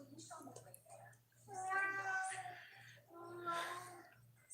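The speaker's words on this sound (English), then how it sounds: "Sorry, that's my cat over there." A cat meows twice, long drawn-out wavering cries close by, over a faint steady low hum and with a few quieter sounds before.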